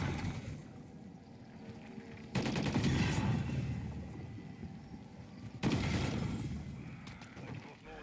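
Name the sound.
gunfire shooting runes in video game COD MW3 Zombies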